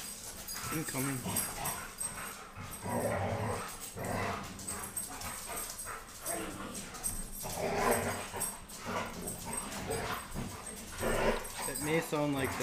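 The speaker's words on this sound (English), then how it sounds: "Those puppies get all riled up, it gets crazy in here." Excited puppies bark, yip and whimper continuously while playing indoors, the noisy chorus close and steady throughout with a voice talking over it.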